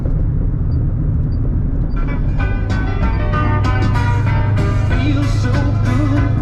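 A race car drives with a steady low engine rumble, loud and close, while irregular rattling and clunking knocks come through from something loose in the rear end.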